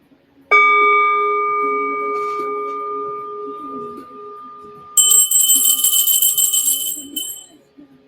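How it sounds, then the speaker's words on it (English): A small brass Buddha bell struck once, ringing out with a clear sustained tone that slowly decays over several seconds, with a bright hissing noise joining near the end. "I had to definitely get that little Buddha bell in"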